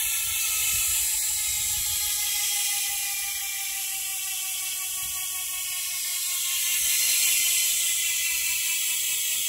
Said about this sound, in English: They're beautiful hubs. I love that bumblebee sound.